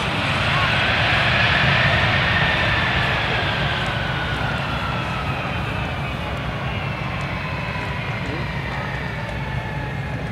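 A USAF C-17 transport aircraft at an airshow roars steadily and loudly as its jet engines whine and slowly shift pitch, while an announcer speaks over the noise.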